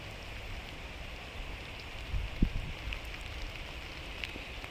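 Continuous May rain in a garden on a grey day, an even hiss of falling drops with a few slightly louder patters midway, nearby and without any speech.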